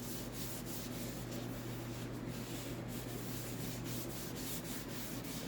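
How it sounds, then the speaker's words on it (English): Cloth soaked in denatured alcohol rubbing over a wooden piece being prepped for sanding sealer, a steady close swishing wipe running continuously without pause, alone with no talk. "So I'm going to wipe it down with denatured alcohol,"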